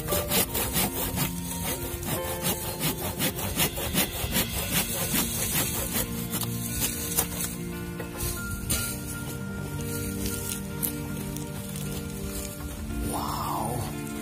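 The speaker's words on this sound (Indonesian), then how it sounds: "Ini serut yang sangat keren sekali" Very large wooden hand plane shaving wood, heard as continuous rhythmic rasping strokes, loud and close, repeating steadily for over ten seconds.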